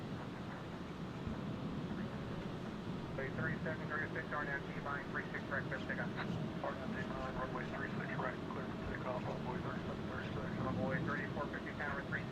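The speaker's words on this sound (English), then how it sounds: "Seven 737-800 for American Airlines." American Airlines Boeing 737-800 jet at DFW airport, a steady broad engine roar that holds for the whole stretch, with people chattering faintly over it.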